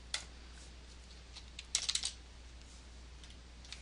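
A computer keyboard being typed on in short bursts, a single tap followed by a quick flurry of several clicks, close and fairly quiet over a steady low hum, with no talking.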